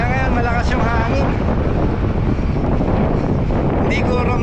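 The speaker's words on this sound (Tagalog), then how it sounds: "Kaya ngayon malakas yung hangin." Strong wind buffets the microphone while cycling on Winspace Hyper D45 wide-rim wheels in a crosswind, a loud continuous roar of broadband rumble throughout, with a voice talking over it.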